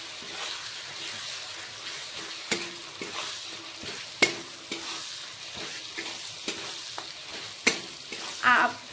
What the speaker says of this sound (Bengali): এবার আমটাকেও তেলের সাথে মিশিয়ে নেব।